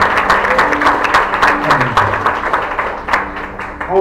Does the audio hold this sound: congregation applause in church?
yes